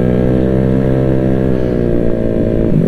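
A motorcycle just back from a workshop after two months, its engine idling with a dense, steady throb, close and loud for a few seconds with no throttle and no talk.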